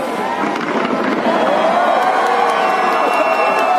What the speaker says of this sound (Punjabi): ਅੱਜ ਕੀਤੀ ਨਵੀਂ ਇੱਥੇ ਆਤਿਸ਼ਬਾਜ਼ੀ